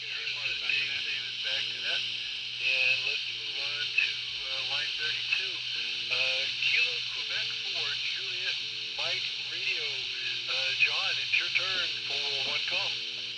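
Amateur HF net voice traffic received on a Quansheng UV-K5 handheld, with several operators' voices taking turns through a steady hiss and hum of radio static, the chopped radio speech continuing throughout.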